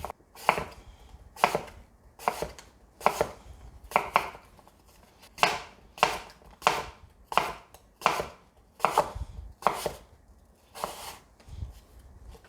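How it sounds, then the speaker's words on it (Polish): Knife slicing apple quarters into thin slices on a board, a steady series of about fourteen sharp, evenly spaced chops close up, with no talking. "I teraz te ćwiartki kroimy w takie cienkie plasterki."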